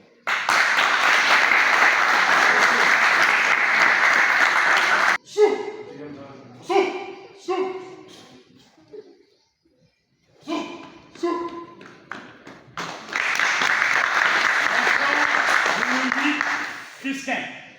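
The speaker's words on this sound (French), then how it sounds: "Acclamez." Applause from an audience at a martial arts grading ceremony: a dense, loud wash of clapping that stops abruptly, gives way to several seconds of talk with scattered taps and thuds, then returns steady and full.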